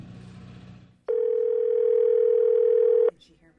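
A steady telephone dial tone on a phone line starts abruptly, holds loud and unbroken for about two seconds, then cuts off, with faint background murmur before and after.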